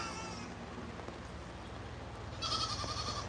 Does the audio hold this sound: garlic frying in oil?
no